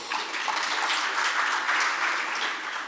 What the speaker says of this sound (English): Shall we again give the panel a round of applause?